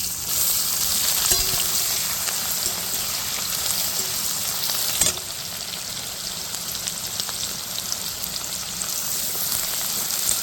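Chopped onions with whole spices and dried chillies fry in hot oil in a pan, giving a loud, continuous crackling sizzle like steady rain, with a brief clatter of stirring partway through.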